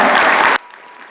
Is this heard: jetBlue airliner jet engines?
no